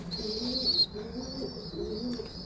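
Breeder pigeons feeding on grain give soft, steady cooing close by, a continuous low murmur with faint higher chirps above it and no talking.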